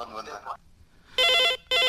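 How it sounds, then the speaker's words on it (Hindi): An incoming listener call on a farming radio call-in program: a brief voice is followed by two loud, close telephone ring bursts separated by a short gap. "ये बीच में श्रोता संगवारी के फोन आ गया हो"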